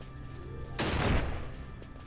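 A sudden explosion trap detonating in Final Fantasy XII The Zodiac Age: one loud, broadband blast bursts in and rolls off through a rumbling, crackling tail over a steady low game ambience.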